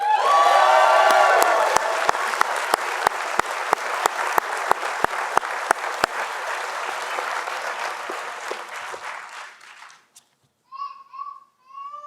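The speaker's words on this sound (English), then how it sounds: "I ask you to join me in a warm round of applause for this year's winner" A commencement ceremony audience at a business school gives a warm round of applause for the year's award winner, sustained, dense clapping that fills the hall for about ten seconds, then stops abruptly before a few brief voices.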